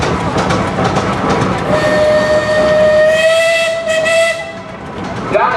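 A steam traction engine at a steam show sounds a loud, clear whistle held for a few seconds, rising over a background of hissing steam and crowd noise.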